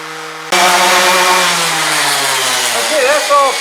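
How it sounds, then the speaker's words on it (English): A random orbital sander fitted with 80 grit paper grinds across cured epoxy on a boat hull, starting abruptly with a loud, steady buzzing whine that holds close and constant, with a little faint talk underneath. "I've got my random orbital sander, and it's got 80 grit paper, which is going to cut reasonably quickly"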